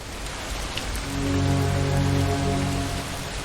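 Rain falling in the video game Far from Noise, a dense steady hiss of drops on surfaces that swells slightly midway, with a low droning tone underneath and no voices.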